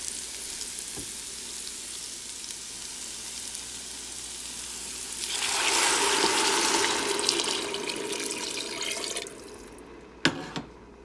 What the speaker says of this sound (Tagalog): we're ready to add the water 10 cups of water